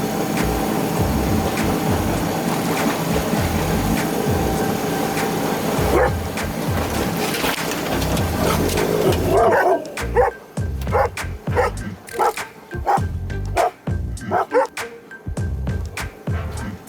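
Dogs bark repeatedly in quick, excited bursts aboard a sailboat, loud and close, with yips and a busy background of noise under the early barking.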